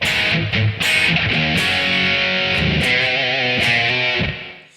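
A distorted electric guitar plays one section of a chorus riff, loud and continuous before fading out at the end, with no voices.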